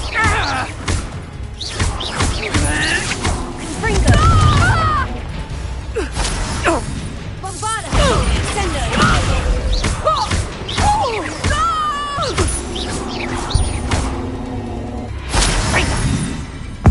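Spell blasts from Confringo and Bombarda in Hogwarts Legacy burst as loud thuds, crashes and whooshes amid busy game music and effects, with a voice calling out between impacts.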